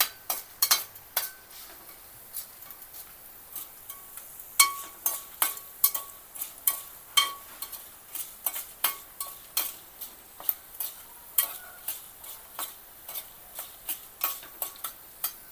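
Tempering spices frying in a pan for a Telugu cabbage chutney, a spatula scraping and tapping the pan in steady repeated strokes over a faint sizzle, close and clear, with no talking.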